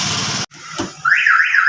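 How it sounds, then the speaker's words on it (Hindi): A Suzuki Celerio's anti-theft alarm starts up when the door is opened: a brief clunk and hush, then a loud warbling siren that rises and falls repeatedly, close by. "ये दरवाज़ा खोलते ही इसके अलार्म बजने लग गया, इंडिकेटर चलने लग गया"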